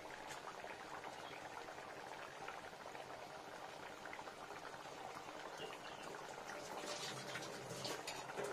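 Liquid boils vigorously in a cooking pot, a close, continuous bubbling hiss that stays steady throughout and swells slightly toward the end.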